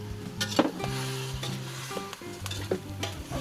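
Glutinous rice being stirred in a hot pot, with steady sizzling under scraping, clattering strokes of a utensil against the pot's sides, close and continuous throughout.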